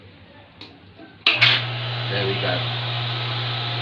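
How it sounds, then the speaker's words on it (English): Swimming pool pump switching on partway through with a sudden burst, then settling into a steady low mechanical hum with a constant drone, after a brief spoken phrase beforehand. "Last but not least is to turn on the pool pump."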